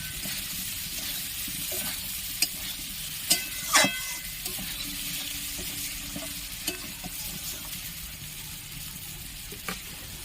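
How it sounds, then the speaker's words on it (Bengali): Soybean chunks stir-fried in a pan for an aloo soyabean curry, a continuous close sizzle with scattered spatula scrapes and a few sharper clinks, no talking. "সয়াবিনটা বেশ অনেকক্ষণ ভালোভাবে কষিয়ে নিতে হবে"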